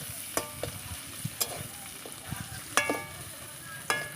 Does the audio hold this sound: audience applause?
no